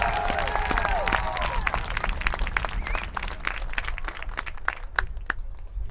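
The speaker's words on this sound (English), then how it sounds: "Let's have a round of applause for the Mount St." A crowd at a women's HCAC conference championship match applauds and cheers the Mount St. Joseph Lions, loud sustained clapping with whoops and whistles early on, thinning into scattered sharp claps.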